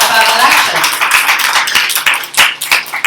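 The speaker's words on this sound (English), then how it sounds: "Give yourselves a round of applause." The crowd at a ward election debate forum claps together, a loud burst of close, crisp applause that gradually thins out.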